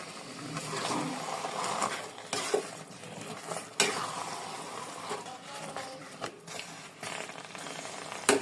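Taro and chicken curry being stirred in a pot, with irregular scraping and clattering of a spoon against the metal over a soft bubbling simmer, close and fairly quiet.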